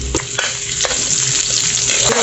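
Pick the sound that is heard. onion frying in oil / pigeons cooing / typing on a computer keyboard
onion frying in oil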